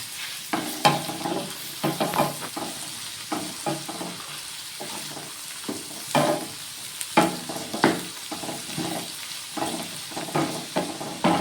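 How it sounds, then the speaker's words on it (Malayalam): Onion, tomato and garlic sizzle in a frying pan as a spoon stirs them in irregular, scraping strokes. The crackling hiss holds steady underneath, close and fairly loud, with no talking. "ഉള്ളി വഴറ്റാനിട്ടതിലോട്ട് ഞാൻ തക്കാളി ഇത്തിരി മൂന്നല്ലി വെളുത്തുള്ളി ചേർത്ത് വെച്ചിട്ടുണ്ടായിരുന്നേ അതും കൂടി ഇട്ട് കൊടുക്കുവാണ് നമുക്കിതൊന്ന് ഇളക്കിയെടുക്കാം"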